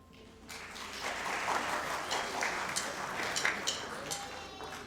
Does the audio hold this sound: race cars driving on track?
no